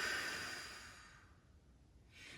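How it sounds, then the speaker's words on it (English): A long open-mouth exhale during yoga breathing, a soft breathy rush that fades over a second or so, followed by the quiet start of another breath, close and gentle. "And open mouth, exhale, release it."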